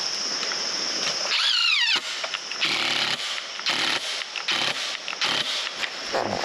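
A cordless drill with a weakening battery drives screws into a mailbox platform: a rising whine as it spins up, then a series of short, stuttering bursts of grinding motor noise with brief pauses between.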